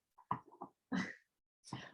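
A puppy makes a few soft, short snuffly yips and huffs in quick bursts, close and fairly quiet, separated by brief silences.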